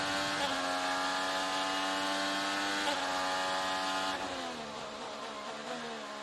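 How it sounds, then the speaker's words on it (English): IndyCar race car at a road-course Grand Prix downshifting through a braking zone: a loud, close, high-pitched engine wail that drops in quick stepped blips as the gears come down, then eases lower. "There you go, another one, big snap, and it's in that downshift phase."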